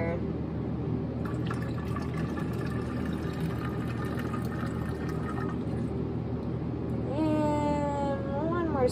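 White vinegar pours steadily into a container for several seconds, a continuous liquid gurgle that rises slightly in pitch as it fills, close and fairly loud.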